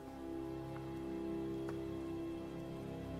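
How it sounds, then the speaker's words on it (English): Faint, even rain ambience is woven into the soft sustained tones of the Skyrim rainy night music suite, a steady hiss beneath the music with no talking. "It's rain effect on the music."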